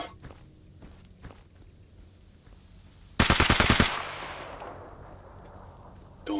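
Automatic gunfire in S.T.A.L.K.E.R.: Anomaly, a short loud burst of rapid shots that cuts sharply through a quiet scene with a few footsteps, followed by a lingering echoing tail that fades slowly.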